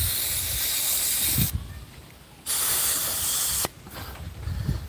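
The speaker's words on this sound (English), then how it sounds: "I have the air, and I have an air ratchet with a socket on it." Compressed air hisses loudly from an air ratchet setup with a socket fitted. The hiss comes in two long, steady bursts separated by quieter gaps and is heard close, with no talk.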